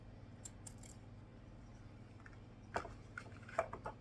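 Scissors snip ribbon ends into a dovetail shape during bow making, a few quick, soft cuts near the end over quiet room noise.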